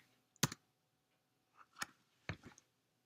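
A few isolated keystrokes on a computer keyboard while a name is typed into an assembler program: three sharp clicks spread over about two seconds, close and fairly faint, with quiet gaps between them and no talking.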